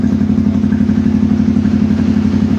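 A Yamaha MT-15 motorcycle with a fresh spark plug and a charged battery, showing a check-engine fault, idles right after starting with a steady, close, loud putter and a regular pulsing beat.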